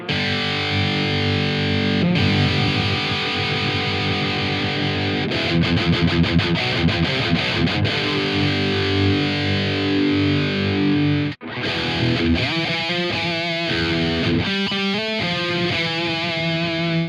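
Heavily distorted electric guitar through a Two Notes Genome simulation of a Mesa Mark V amp, playing sustained chords and chugging palm-muted riffs, with a brief dropout before choppy rhythmic stabs resume.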